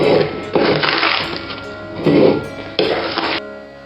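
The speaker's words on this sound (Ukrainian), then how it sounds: "Ставимо жаровню на вогонь на максимальну температуру." A large pan for cherry jam is set on a stove with loud metallic clanks and scrapes in several bursts, the metal ringing briefly between knocks, with no talking.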